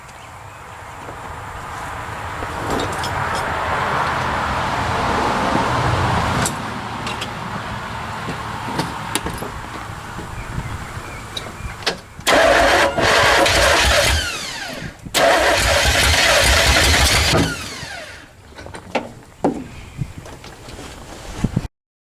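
A 1985 Chevy K10 pickup under restoration cranks with rough, stuttering bursts, then loud surges of engine noise come through in strong pulses, close to the microphone with some wind buffeting.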